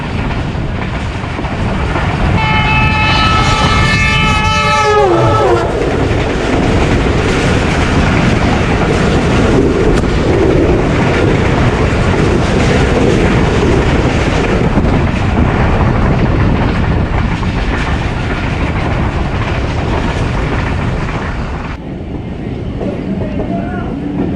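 A Tezgam express train races past at more than 110 km/h, and its long multi-tone horn blares early on. A loud, continuous rumble and rattle of wheels and cars roars on for about twenty seconds before it abruptly drops away.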